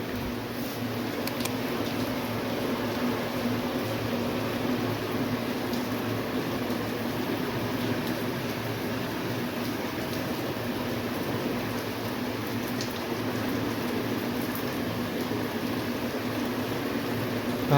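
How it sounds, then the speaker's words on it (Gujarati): Heavy rain pours steadily on a Gujarati farm, a dense continuous hiss that stays even and loud throughout with no talk over it. "સારો એવો વરસાદ પડ્યો આજ"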